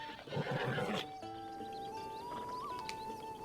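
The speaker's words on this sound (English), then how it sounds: "Hello, horse." A horse neighs in the video game Breath of the Wild, a loud whinny near the start followed by quieter game ambience with soft clip-clop hints.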